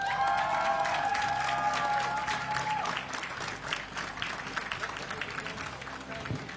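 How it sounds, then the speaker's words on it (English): Applause from a crowd at the European Championship 10m air pistol junior men's team final in Wroclaw, Poland, steady clapping that continues under tonal sounds early on and then carries on as a dense, even patter. "ladies and gentlemen, round of applause for your homeboys"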